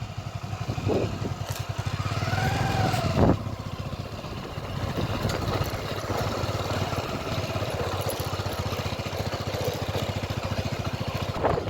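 A motorcycle engine running steadily at a low, even idle-like rumble throughout, fairly close, with a brief clatter partway and no talk.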